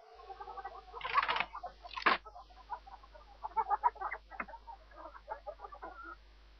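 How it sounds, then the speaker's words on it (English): A chicken in the King's Quest 3 Redux video game gives a pair of loud squawks followed by a run of quicker, softer clucks in an irregular burst, heard alone with no other sounds. "You pick up the chicken."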